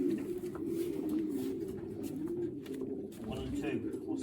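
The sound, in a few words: racing pigeons cooing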